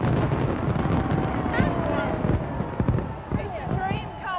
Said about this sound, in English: the fireworks that followed were unfailingly spectacular.